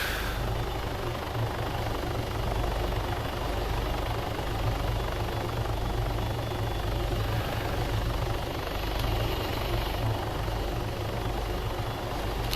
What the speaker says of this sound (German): Helikopter.